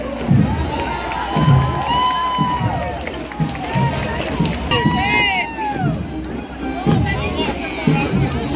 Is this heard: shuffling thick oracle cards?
no